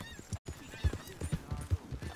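In Red Dead Redemption 2, a rider on horseback passes close by, hooves clopping in an uneven rhythm beneath a player talking over the game.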